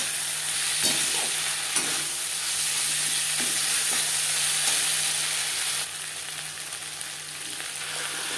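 Garlic and a ginger-green chilli paste fry with onions in a pan for egg curry, making a continuous close sizzle with regular scraping stirs every second or so that softens slightly toward the end.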